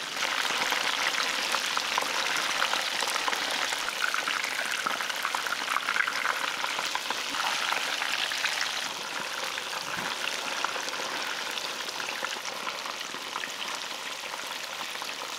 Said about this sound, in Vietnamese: Khi đậu vàng mặt dưới thì mình trở qua mặt còn lại để chiên.